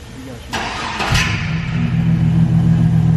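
A truck engine with stock exhaust cranks briefly, catches, and settles into a loud, deep, steady rumble close by.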